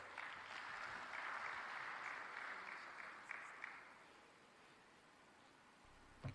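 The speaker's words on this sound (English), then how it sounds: "I believe a bigger round of applause would do." Faint applause from delegates at the third summit of African coffee-producing countries in Dar es Salaam: a steady patter of many hands that holds, then fades away to near silence.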